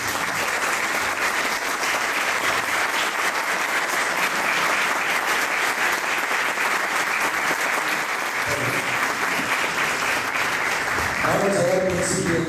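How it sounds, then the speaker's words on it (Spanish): A crowd claps for a maestro at an awards ceremony, steady dense applause that stays loud and even for the whole stretch and picks up a few scattered cheers near the end. "Un aplauso para el maestro."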